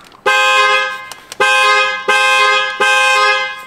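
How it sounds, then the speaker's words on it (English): Tesla Model Y horn honking during a yoke steering wheel installation: four loud, close blasts, each about half a second to a second long, with short gaps and faint clicks between them. "there's going to be a lot of honking at this portion, so don't do this at night"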